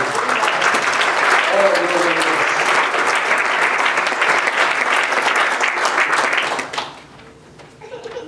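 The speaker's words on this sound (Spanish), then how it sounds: "Los que conocen de Biblia le dan un aplauso al Rey en esta tarde" Church congregation clapping during an afternoon sermon, a loud, dense burst of applause that holds steady for several seconds and then cuts off abruptly, followed by near quiet.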